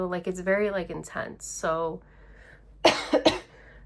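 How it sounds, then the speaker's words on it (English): Someone talks briefly, then breaks into a short burst of several close, sharp coughs in quick succession. "I just I don't know why I'm like coughing"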